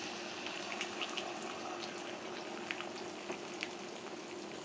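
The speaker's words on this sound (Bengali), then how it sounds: "5টা ডিম 2বারে দিয়ে ভেজে নিলাম" Beaten eggs frying in a hot pan, a steady soft sizzle and crackle with scattered small pops, continuous and fairly quiet from start to finish.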